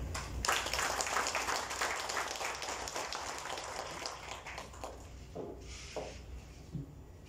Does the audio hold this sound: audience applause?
yes